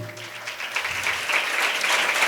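Congregation applauding during a Hindi-Punjabi Sunday church worship service, a steady wash of many hands clapping that swells slightly and holds throughout, with a faint low hum underneath.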